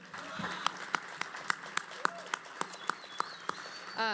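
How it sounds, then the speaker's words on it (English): An audience applauding in a room at a Sweet Potato Comfort Pie board gathering, with a light wash of many hands and distinct louder claps repeating at a steady pace, fairly soft and a little distant. "Give yourselves a hand."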